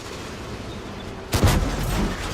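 A tank main gun fires in World of Tanks on Xbox, one loud broadband blast cracking out mid-clip over steady engine rumble, then a rolling decay.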